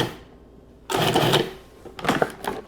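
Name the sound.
food processor pulsing protein energy bite mixture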